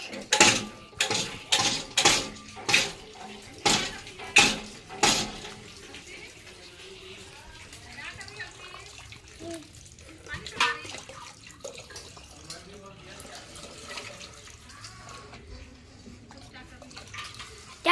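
A small child splashes water, a series of sharp rhythmic splashes close by at first, then softer sloshing and occasional splashes with quiet household background.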